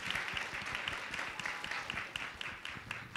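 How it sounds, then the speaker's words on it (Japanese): Audience applause at a live stage fan event, dense steady clapping from a crowd that holds at an even level throughout with no talk. "大きな拍手をお願いします"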